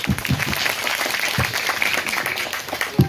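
Audience hands clapping in steady applause at a school annual festival and prize-giving ceremony, a dense continuous patter with a few sharper nearby claps standing out.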